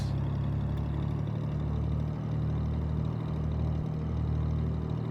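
A Ryan Navion light aircraft engine in X-Plane 12 runs steadily with a deep droning rumble, its revs holding at a fairly even pitch with slight rhythmic pulsing throughout.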